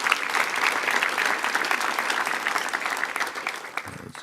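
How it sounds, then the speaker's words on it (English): Sustained audience applause for the dean at a University of Southern California academic gathering, dense steady clapping from a large crowd lasting throughout and tapering near the end. "Let's give the Dean a round of applause"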